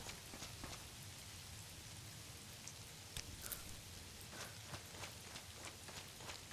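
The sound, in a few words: constant rain falling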